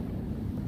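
Wind blowing outdoors on a cold, sunny day in Daegu, a steady low rumble buffeting the microphone throughout, with no one speaking.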